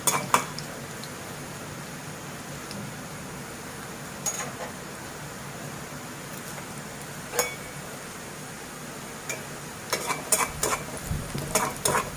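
Garlic frying in a pan for a Bengali olive chutney, a soft continuous sizzle broken by scattered clinks and scrapes of a stirring utensil against the pan, with no speech.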